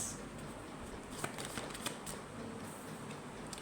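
Tarot cards shuffled by hand in a steady riffling patter, close and fairly quiet, with a few sharper card snaps and no speech over it.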